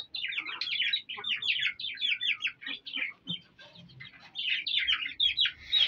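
High, rapid chirping and squeaking calls from pigeon chicks come in close, dense bursts that fill most of the stretch, with only brief gaps.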